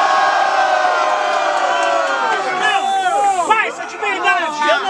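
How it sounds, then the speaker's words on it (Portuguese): A large crowd at a student rap battle final roars and cheers loudly, with whoops and shouts rising over an MC's amplified voice that fades into the noise. "Barulhos, barulhos pra quem gostou das rimas do menor do Janta"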